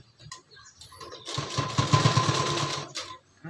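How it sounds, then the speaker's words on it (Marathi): A sewing machine runs a fitting seam on a prince-cut designer blouse, a steady close rattling hum starting after a brief pause and lasting about a second and a half before stopping. "आता चला या ठिकाणी आपण फिटिंगची शिलाई देऊन देऊ."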